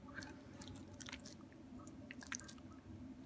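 A Rottweiler puppy bites and chews, giving soft, faint, close wet crunches and squishy gnawing in irregular bursts, with no talking.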